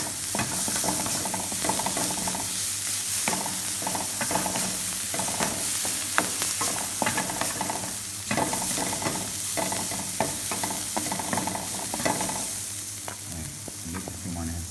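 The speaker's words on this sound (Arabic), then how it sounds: "ذبت الثوم أنا هسه ينحمس وياه" Garlic fries in a pan with a constant crackling sizzle, punctuated by frequent sharp scraping and stirring clicks from a utensil, close and fairly loud with no talking.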